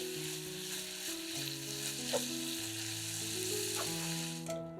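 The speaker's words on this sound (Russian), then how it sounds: "Готовим фарш с овощами примерно 3-5 минут," Ground beef and vegetables frying in a pan for soup, a steady close sizzle with occasional stirring scrapes, continuous and even, with soft background music and no talk.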